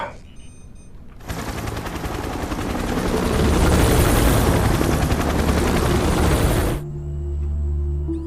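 A helicopter's loud rotor roar surges in, swells steadily louder for several seconds, then cuts off sharply, leaving a low hum behind.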